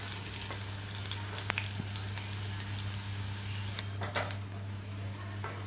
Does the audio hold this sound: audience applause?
no